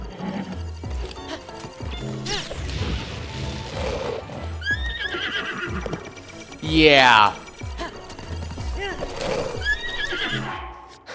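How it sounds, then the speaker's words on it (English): A horse in The Legend of Zelda: Breath of the Wild, caught on fire, gives several loud whinnies over running clip-clop hoofbeats. A voice talks throughout, alongside clattering game effects. "Oh, no, the horse is on fire."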